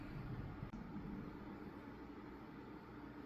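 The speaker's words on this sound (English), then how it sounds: "sorry about the fan noise" A workshop fan runs steadily to clear sanding sealer fumes from a freshly coated guitar body, giving a continuous broadband whoosh with a low rumble and one brief dip partway through.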